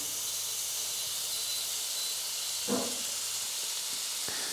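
Butter sizzles in a frying pan over turned-down heat, ready for one plaice fillet at a time, giving a steady, fairly quiet hiss throughout with a brief louder crackle midway.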